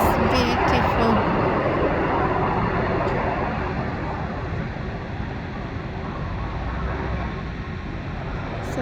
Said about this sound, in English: So now we've got the Aer Lingus just landed. It's decelerating